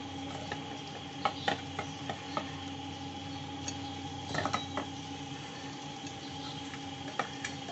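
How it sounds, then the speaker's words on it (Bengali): Boiled jackfruit and spices are stirred and sautéed in a pan, giving faint, scattered scrapes and taps of a spoon over a low background hum. "এটা খুব ভালো করে কষতে হবে, যাতে মশলাটা এর ভেতরে অনেকটা"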